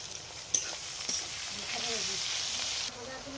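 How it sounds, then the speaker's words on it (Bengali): Onions fry in a pan while a mutton curry is being prepared: a soft, moderately close hiss with a few sharp clicks early on, swelling into a steadier sizzle midway before dropping off near the end. "এবার পেঁয়াজটাকে বেশ কিছুক্ষণ ভালো করে ভেজে নেব।"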